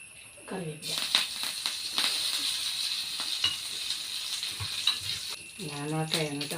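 Curry leaves hit hot oil in a pan with a steady, bright sizzle and crackle that runs throughout, while a person speaks over it at the start and end.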